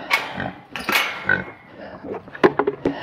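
Pigs grunting and snorting nearby in short, irregular bursts while being fed pumpkins, some squealing peaks among the low grunts.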